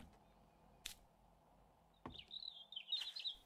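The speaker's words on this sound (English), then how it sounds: "Painting while the birds are singing." Birds chirp in 7 Days To Die, short high tweets and a warbling trill rising in the latter half over a quiet background, with a couple of soft clicks earlier.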